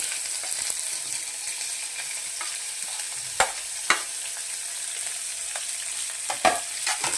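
Capsicum and cabbage being stir-fried in a pan for wheat noodles: a continuous close sizzle broken by a few sharp scraping clanks of the spatula, with no voices.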